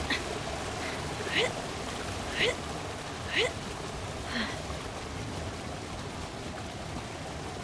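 Steady rain hiss in the video game A Highland Song, a constant even wash of falling drops running throughout, with a few faint, evenly spaced chirping sounds over it.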